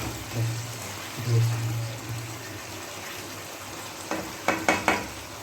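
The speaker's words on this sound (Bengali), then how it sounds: "একটু একটু কপিগুলোকে নাড়িয়ে দিই জলের সঙ্গে" Cauliflower pieces stirred with water in a pot over heat, a soft simmering hiss with a few low knocks, then a cluster of sharp scraping spoon strokes near the end.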